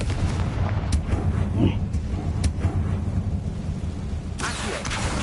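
A fiery Confringo spell blast in the video game Hogwarts Legacy bursts out as a loud, dense roar of booming crackle, with sharp impacts scattered through a continuous rumbling wash.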